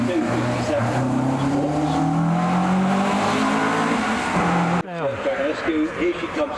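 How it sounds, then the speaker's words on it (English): BMW E36 M3 racing up the Prescott speed hill climb, its engine droning and rising in pitch through the gears before an abrupt shift to another engine note, under a commentator talking. "Here she comes in the BMW, this E36 M3."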